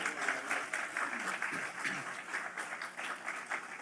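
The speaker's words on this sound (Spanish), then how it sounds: "Bien fuerte ese aplauso al Señor." A church congregation claps during a Spanish-language sermon, a fairly faint, continuous patter of many hands heard from some distance, with rhythmic pulses and no voices over it.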